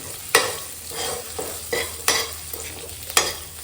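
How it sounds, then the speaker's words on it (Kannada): Coriander sizzles and fries in a pan, with a spoon scraping and stirring in several distinct strokes over a steady hiss, close and alone without speech. "ಆಮೇಲೆ ಕೊತ್ತಂಬರಿ ಫ್ರೈ ಮಾಡೋಣ"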